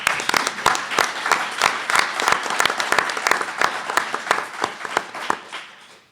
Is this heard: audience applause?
yes